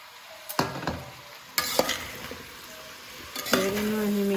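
Spoon scraping and clinking as mixed pickle ingredients are stirred in a pan over low heat, three distinct stirring strokes with a faint sizzle underneath, close and fairly quiet.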